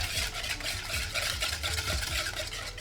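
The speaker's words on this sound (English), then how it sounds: "And now we're gonna start whisking immediately." Eggs whisked with a little melted chocolate for a sugar-free soufflé, a continuous close scraping whisk with rapid rhythmic strokes.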